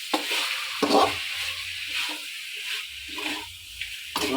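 Chicken pieces sizzle and fry in a pan while being stirred for pepper chicken, with repeated scraping strokes over a steady hiss, close and moderately loud.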